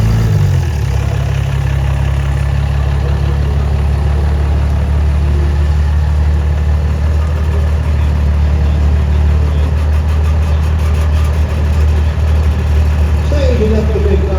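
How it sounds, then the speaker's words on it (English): A big Dodge diesel truck sits staging at a drag strip, its engine holding a loud, steady, deep idle rumble up close for the whole stretch. "Staging up the big Dodge diesel"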